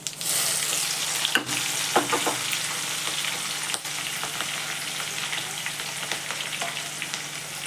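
Green chillies with mustard seeds and cumin fry in hot oil in a pan, a steady close sizzle with occasional sharper pops and crackles, no talking.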